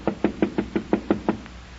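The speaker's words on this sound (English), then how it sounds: "they knocked and knocked, but the door was locked" Knuckles rap on a wooden door as an old-time radio sound effect: eight brisk, evenly spaced knocks, close and clear, with nothing else in the background.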